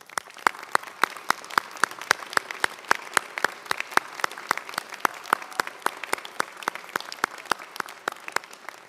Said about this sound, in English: a round of applause for your families and friends here tonight